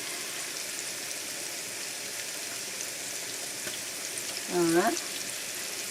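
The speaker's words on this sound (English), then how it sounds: "I'm gonna fry this for 10 minutes, everyone." Chicken wings fry in a shallow pan with a steady, even sizzle throughout, close by, with a brief voice speaking near the end.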